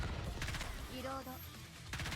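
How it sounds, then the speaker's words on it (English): Gunfire barrage from the mobile shooter game NIKKE, with rapid overlapping shots forming dense bursts under a steady game soundtrack, with a brief tonal passage between volleys. "Decimate your enemies with a barrage of gunfire"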